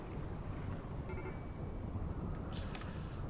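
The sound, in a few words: rain in the video game RimWorld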